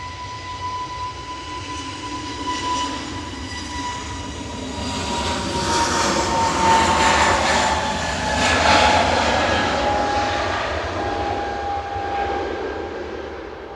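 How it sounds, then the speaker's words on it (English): An EasyJet passenger jet departs Manchester Airport, its engines building into a loud, broad roar that swells in the middle and holds with a steady whine on top, heard from a distance without talk. "EasyJet departing to Geneva there with flight 2183."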